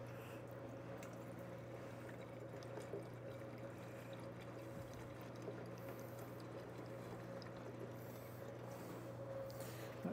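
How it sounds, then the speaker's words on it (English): Cheap pre-mixed fuel pours steadily into the tank of a Jiffy Model 30 ice auger, a faint continuous liquid trickle over a steady low hum, with no speech. "Let's dump some fuel in this thing and see if it's going to run for us"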